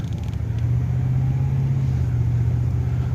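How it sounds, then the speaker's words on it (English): A 1978 Lincoln Mark V idles with a slight ignition miss, giving a steady, close, low engine rumble with a faint uneven chug throughout and no talking. "Feel just a little bit of a chug there at idle."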